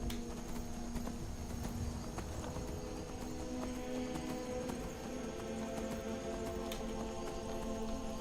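Horse hooves clip-clopping steadily on the ground in the Skyrim video game, a quiet continuous rhythmic trot alongside a faint ambient music bed.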